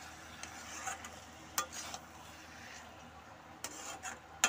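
Meat being stir-fried with spices for mangsho kosha: a faint, soft sizzle that runs throughout, broken by a few brief scraping stirs, with no talking.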